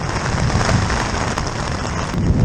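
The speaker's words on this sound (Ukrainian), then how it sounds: "І відчуваєте, як хлеще вода з неба, як падає, скільки води." Heavy rain pours down hard during a thunderstorm on a summer cycling trip through the Balkans, a loud, steady dense hiss throughout, with faint crackles.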